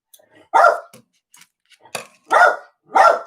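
Indoor dog barking, several sharp barks close by in an irregular rhythm with short quiet gaps between them, and no talking.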